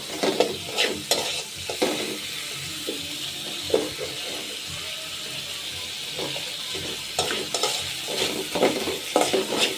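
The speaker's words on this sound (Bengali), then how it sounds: "এতে এখানে হলদি মরিচ দিয়ে দিচ্ছি, একটু ভালো করে একটু হালকা কষিয়ে নেব" Stir-frying with turmeric and chili powder, a steady close sizzle of oil under repeated scraping strokes of a spatula against the pan, continuous and moderately loud.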